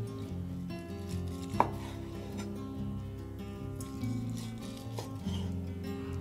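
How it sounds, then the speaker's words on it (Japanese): A knife cuts through soft braised pork belly on a board in a home kitchen, giving a few quiet soft chops with one sharper knock, over a low steady hum and no talking. "そしたら横に取り出して食べやすい大きさに切っていきます。"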